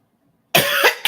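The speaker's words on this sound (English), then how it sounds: "I will be coughing, y'all." After a moment of silence, a person with allergies coughs sharply twice, close and loud, with a brief gap between the coughs.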